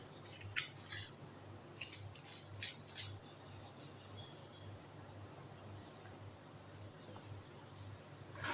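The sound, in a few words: cutting green chillies for bajji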